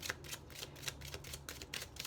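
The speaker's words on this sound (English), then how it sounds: "Okay, so I'm gonna shuffle the deck." A deck of tarot cards is shuffled close up, giving a run of quick, crisp riffling flutters in a regular rhythm, with no voice over it.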